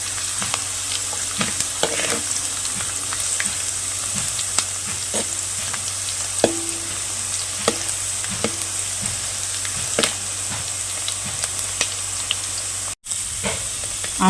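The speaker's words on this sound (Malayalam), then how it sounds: "ഉള്ളി വാടാൻ വെച്ചിട്ടുണ്ട്. കുറച്ച് ഉപ്പും കൂടി ഇട്ട് കൊടുത്തിട്ടുണ്ട്." Sliced onions with a pinch of salt sizzle steadily in a pan while they soften, with scattered clicks and scrapes from stirring over the hiss.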